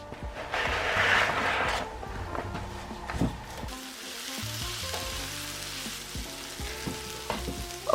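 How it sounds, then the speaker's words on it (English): Chopped peppers and a small amount of onion sautéing in a pan, loud sizzling burst at first that settles into a steadier crackle with occasional utensil clinks and stirring. "So I'm going to put these into my pan and we're going to start to saute."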